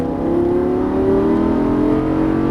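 A Lamborghini Gallardo engine revs up loudly and steadily, its pitch climbing as it accelerates close by, with no voices.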